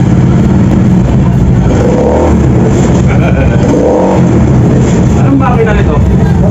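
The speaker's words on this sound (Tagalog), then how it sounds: "Isa itong DIY na owner type jeep." A homemade owner-type jeep in Aurora, running a motorcycle engine with a dual tank, revs in uneven surges. People talk over the steady, busy engine noise throughout.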